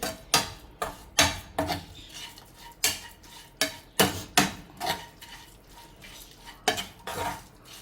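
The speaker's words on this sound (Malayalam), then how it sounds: "ഇതിനുവേണ്ടി ഒന്ന് ശർക്കരയൊക്കെ ഒന്ന് ഇളക്കി കൊടുക്കാം" A spoon stirs papaya pickle with jaggery and vinegar in a metal pot, making sharp rhythmic clinks and scrapes at a brisk uneven pace, close and clear, with no talking.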